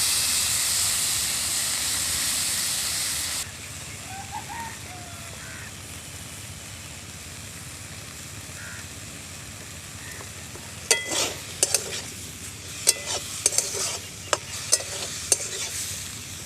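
Salted, turmeric-rubbed prawns fry in a wok with a bright, loud sizzle at first that soon settles into a softer hiss, broken later by a series of sharp metallic clinks from stirring.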